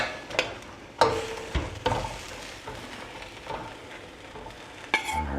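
Ramen ingredients fry in a pan with a low, steady sizzle, punctuated by a few sharp knocks and scrapes of a utensil stirring against the cookware.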